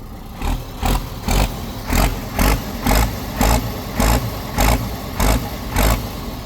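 A Ford 7810 tractor's diesel engine is revved in repeated short bursts, about a dozen evenly spaced roars rising over a steady idle, loud and close.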